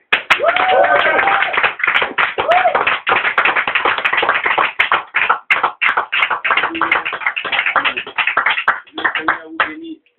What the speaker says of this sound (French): Nous allons maintenant acclamer très très très fort le pasteur qui est notre messager du jour